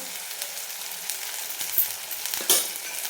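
Spices and red chili powder sauté in oil in a pan, a soft steady sizzle with a few light scraping stirs near the end, close and fairly quiet with no talking.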